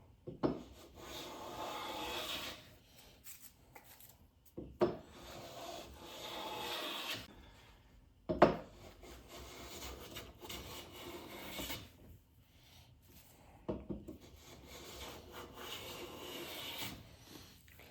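Lie-Nielsen No. 4 bench plane taking full-width shavings off wood, repeated rasping strokes of a few seconds each, separated by short pauses and sharp knocks, close and fairly soft.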